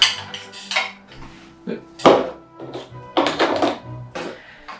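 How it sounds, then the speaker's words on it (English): Cooked rice is scooped with a rice paddle into a bowl, giving a few close soft thunks and light scrapes against the bowl, mixed with knocks of dishes, with no talking. "let's just use our rice paddle, our fan hot, put that in, nice and easy, into our bowl."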